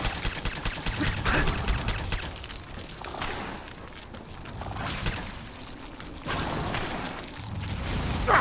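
Gunfire crackles in the video game Fallout 4 as repeated shots and rapid bursts. It comes in uneven clusters at fairly high volume, with heavier blasts scattered throughout and no voices.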